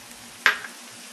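Chestnut stuffing with pre-cooked vegetarian sausage, parsley, sage, thyme and a shot of Jim Beam, stirred in a pan: one quick scrape and brief sizzle, close, over a quiet hiss.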